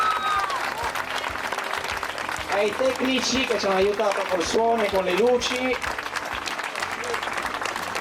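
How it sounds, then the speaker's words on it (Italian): Audience applause after an amateur comedy play, steady broadband clapping running the full length beneath someone talking over a microphone. "dedicherei l'ultimo applauso ad Anna Simbula Marra"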